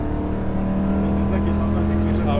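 A Ford Mustang Shelby GT500 V8 engine drones loud and close with a steady, deep, even tone while people talk over it.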